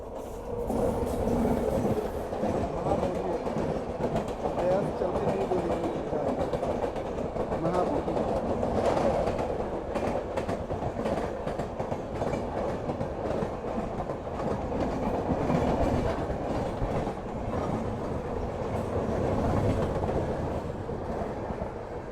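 Train 14007 Sadbhavana Express runs on the rails near Sahibabad, a steady close rumble of wheels and carriages with a rhythmic clatter that holds for the whole stretch, while voices talk faintly underneath.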